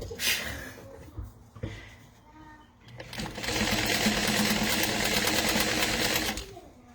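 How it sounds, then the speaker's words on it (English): A sewing machine set to a 3 stitch length runs steadily across a wallet pocket for about three seconds, a loud close whirring chatter, preceded by a few handling clicks and shuffles. "I'm just sewing from one side to the other with that pocket top folded out of the way"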